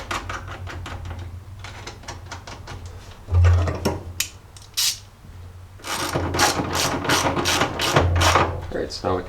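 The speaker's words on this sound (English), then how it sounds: "I'm just going to pop off this cover and take off these nuts and then slip our fuse in." Ratchet wrench removing nuts from the fuse cover on a Jeep J10 alternator, with rapid clicking bursts in quick runs, a pause partway through, then a long steady stretch of clicks.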